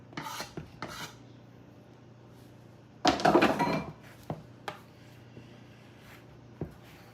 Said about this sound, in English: I'm going to cut into this 12 tablespoons of butter that I've cut up